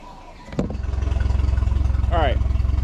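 A boat motor, set up with a 1st Mate safety device, cranks and catches, then settles into a steady, close, low rhythmic running drone, with a brief electronic chirp partway through.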